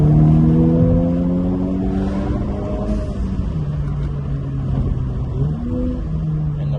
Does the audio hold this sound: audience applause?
no